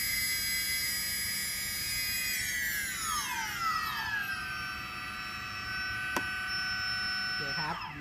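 DJI Phantom 2 Vision+ quadcopter motors whine and rise steadily in pitch as they spin up, a close, continuous multi-tone hum with a brief click near the end.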